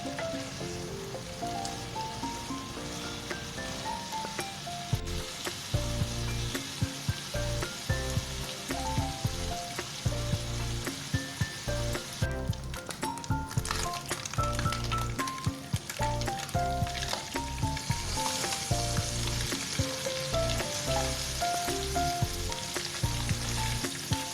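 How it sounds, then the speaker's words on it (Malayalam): Spicy garlic masala-coated anchovies fry crisp in hot oil in a pan, giving a steady, dense close-up sizzle and crackle throughout with no talking. "മസാല പുരട്ടി വെച്ചിരിക്കുന്ന നെത്തോലി ഇതിലേക്കിട്ട് നല്ല ക്രിസ്പിയായി വറുത്തെടുക്കാം"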